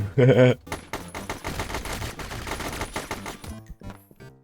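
Rapid gunfire rattles in the fast-paced movement shooter video game Straftat, opening with a loud burst and continuing as dense, crackling volleys that fade out at the end.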